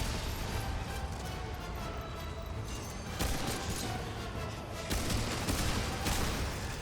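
Dense, continuous gunfire in the video game Remnant 2 played in VR, rapid overlapping shots with a couple of louder bursts, loud and close throughout, with no talking.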